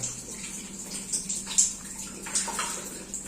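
Shower water trickling slowly at low pressure from a gas water heater setup, a soft steady patter and splash with faint bursts, alone and fairly quiet.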